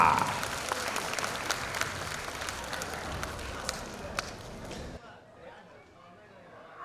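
Parents and guests applaud a kindergarten class as its graduates enter and come up onto the stage, making a dense crowd of clapping that stops abruptly after about five seconds and leaves a quiet room.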